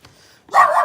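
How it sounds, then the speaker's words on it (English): A dog barks once, loud and close, in an outdoor hillside garden on the Amalfi Coast, after a quiet stretch at the start. "Doggy might bark at me again."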